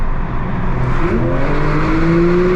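Porsche 992 GT3 Touring flat-six accelerating hard on kickdown, a loud continuous engine note rising steadily in pitch as it climbs through the revs, heard from inside the car with road and wind noise beneath.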